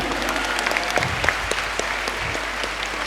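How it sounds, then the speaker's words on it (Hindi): An audience at an Independence Day celebration at a college in Patna applauds the performances, with continuous clapping from a sizeable crowd at moderate loudness and a few louder individual claps. "एक बार सभी परफॉर्मेंस के लिए जोरदार तालियां बजाओ।"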